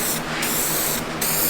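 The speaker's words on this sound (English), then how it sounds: "Just spray it on." A steady hiss of aerosol dry powder guide coat spraying onto car bodywork runs throughout, with brief pauses in the highest hiss as the can is released and pressed again.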